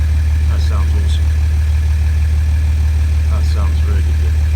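An Audi A8L V6 idles through a straight-through exhaust with mufflers removed after the catalytic converter, a steady deep low rumble throughout while someone talks over it.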